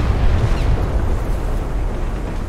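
Main guns of the battleship Kongou firing in a naval video game, a heavy low rumbling boom rolling on for a couple of seconds, loud and continuous with no talk.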